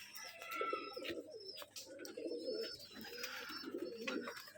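Rajshahi giribaj pigeons at a pigeon farm giving soft repeated coos in short rolling bursts, close and fairly quiet, with faint chirps and background noise.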